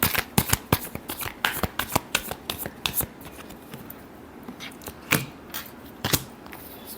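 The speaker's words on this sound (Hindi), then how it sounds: "last shuffle" Tarot cards are shuffled by hand, riffled in quick crisp bursts of snapping flicks over a few seconds, close and clear with no talking.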